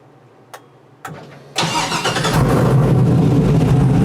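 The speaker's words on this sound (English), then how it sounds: "All right, so let's start the car." An El Camino fitted with a wireless start button cranks and fires up, with a couple of sharp clicks, then a loud engine catch settling into a rough, steady idle close by, with no talking.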